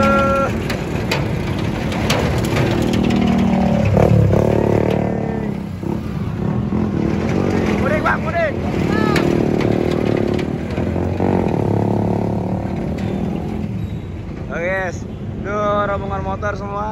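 Motorcycle engines rev and drone loudly in a packed holiday exodus queue at Merak port, continuous engine roar with rising revving sweeps, wind buffeting and people talking over it.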